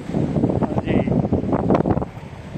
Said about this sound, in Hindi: देखिए समुंदर किनारे कितनी अच्छी ठंडी हवा चल रही है